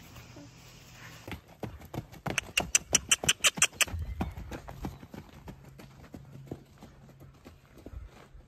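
A horse's hooves clip-clop in a burst of quick, sharp, close strikes that build into a rapid run, then trail off into scattered softer steps over faint low background noise.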